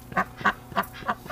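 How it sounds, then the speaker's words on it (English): A duck sitting on eggs gives five short, nasal quacks in an even rhythm, close by and fairly quiet, with no talk over them. "Oh, look at this little duck."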